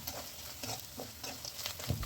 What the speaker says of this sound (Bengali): আবারও কিছুক্ষণ নাড়াচাড়া করে বড়িটা হালকা লাল করে ভেজে নিতে হবে।